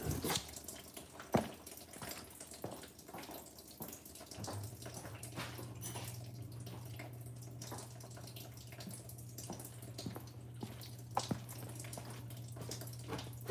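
Coolant draining from a car radiator during a cooling system repair, a faint steady trickle with occasional drips and small knocks, then a low steady hum joining partway through.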